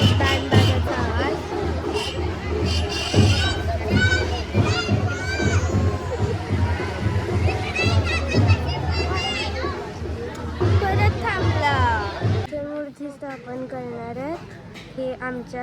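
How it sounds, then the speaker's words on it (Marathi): A dense crowd hubbub at a goddess idol installation under a pandal, with children shouting and many overlapping voices close by. It stays busy throughout, then drops to a quieter murmur near the end. "इतकी खूप गर्दी झाल्या काहीच ऐकू येत नाही"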